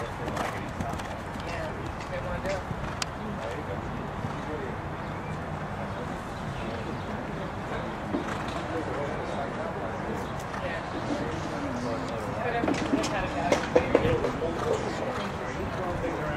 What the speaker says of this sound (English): Let's pick up a canter, please.